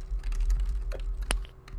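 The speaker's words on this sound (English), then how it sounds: "It's always aggressive typing." Fast, forceful typing on a computer keyboard, a short burst of clattering key strikes with one sharper loud clack near the end, close and alone without talk.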